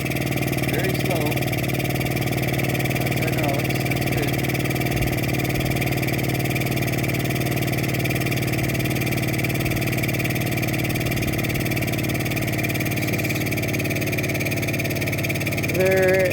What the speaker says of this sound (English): sorry about that air compressor